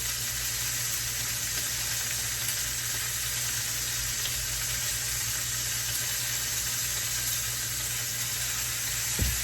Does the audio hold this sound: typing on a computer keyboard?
no